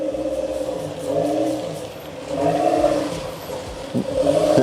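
A truck drives past on the road, its engine note rising and falling in waves as it passes close by, loud and steady with no talking.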